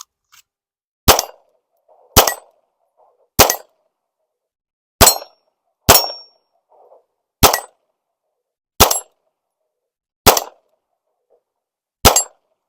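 A Smith & Wesson 2206TGT .22 pistol fires nine sharp, loud single shots spaced about a second apart, each a crisp crack with a short ringing tail, faint metallic clicks between, and no talking.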